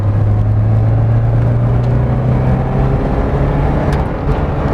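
A Porsche 944 engine idles steadily at close range with a low, even hum and rumble that holds without revving for several seconds, no talking over it.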